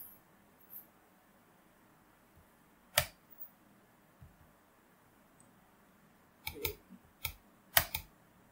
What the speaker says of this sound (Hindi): तो मैं यहाँ पे क्लिक करूंगा।